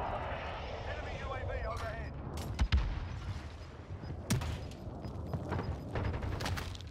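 Airstrike explosions in Call of Duty Warzone, a few sharp booming impacts landing at intervals among engine drone and gunfire, fairly quiet overall, with players talking throughout.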